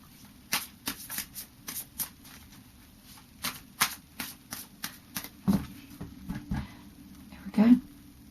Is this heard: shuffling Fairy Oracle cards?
yes